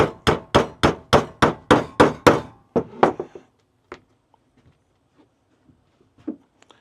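A hammer knocks holes for rivets through an RV slide-out seal on a Tiffin bedroom slide, striking about a dozen loud, evenly spaced blows close up, then stopping with only faint handling knocks after.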